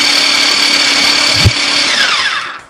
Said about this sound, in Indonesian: mau pakai blender boleh, tapi jangan terlalu halus